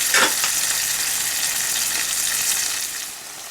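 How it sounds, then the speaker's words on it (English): Potatoes fry with spices and green chili in a pan for a fish ball curry, giving a loud, close, continuous sizzle with a brief stir at the start, easing slightly near the end, no talking. "I've been cooking the potatoes with the spice for a while now."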